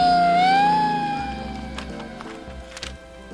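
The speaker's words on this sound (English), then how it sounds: "they all climb aboard the fire truck and turn on the siren and lights" A fire truck siren wails in a rising, steady tone for about a second and then fades out. Soft thumps and clatter follow, with no voices.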